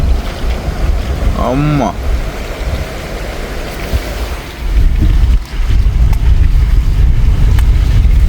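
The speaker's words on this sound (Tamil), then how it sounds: "தண்ணியை பாருங்க எப்படி ஓடுதுன்னு சொல்லி." Floodwater rushes along a path in a loud, continuous broadband roar with wind buffeting the microphone; a voice calls out briefly early on.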